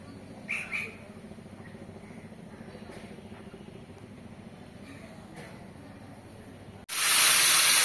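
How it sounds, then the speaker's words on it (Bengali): Hilsa fish heads fry in hot oil in a village kitchen, a steady close hiss and sizzle with a few brief sharper pops, ending in a sudden loud surge of sizzling. "বন্ধুরা এই দেখো আমি মাছের মাথা ভেজে নিচ্ছি।"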